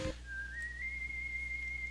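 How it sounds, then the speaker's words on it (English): A single long whistled tune from Proto Man in the Mega Man 7 video game, a thin clear tone that rises slightly and holds steady after a brief game sound, playing alone over a quiet background. "I recognize that whistle anywhere."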